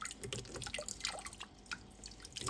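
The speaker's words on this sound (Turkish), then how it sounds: "şırıl şırıl burada aksın" A light trickle of water splashing into an aquarium, with small irregular drips and bubbling, close by and fairly quiet.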